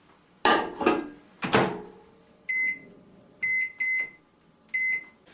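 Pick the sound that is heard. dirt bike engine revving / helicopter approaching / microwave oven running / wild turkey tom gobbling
microwave oven running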